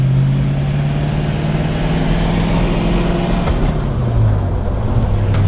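A 1951 Ford F1 pickup truck drives along with a loud, steady engine drone from inside the cab, the pitch holding and then dropping as gears are shifted.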